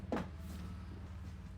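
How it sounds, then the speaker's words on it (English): A full-length kitchen drawer in a 2020 XLR Nitro 35DK5 fifth wheel toy hauler slides out with a short thump at the start, then a faint rolling glide under a low steady hum. "And all of these drawers pull all the way out."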